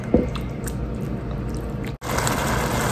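Turkey pot pie gravy thickening in a pot gives soft, steady bubbling and faint liquid pops, close up and fairly loud, with a brief drop to near silence partway through.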